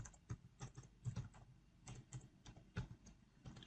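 Keys are typed on a computer keyboard to enter text into a Microsoft Excel sheet: a quiet, irregular patter of soft close-up clicks in small bursts, with no talk.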